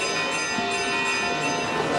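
Church bells ringing at the opening of a regional Sicilian confraternity gathering on the feast of Our Lady of the Rosary; sustained, overlapping metallic tones sound steadily and fairly loud throughout, with no speech.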